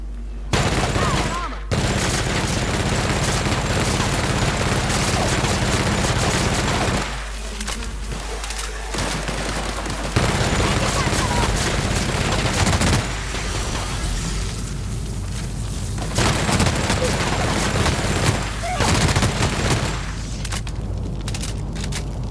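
Sustained, loud gunfire from a weapon in the video game The Outer Worlds, rapid bursts blending into near-continuous automatic fire with brief pauses between volleys.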